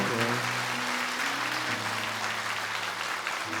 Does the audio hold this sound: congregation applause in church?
yes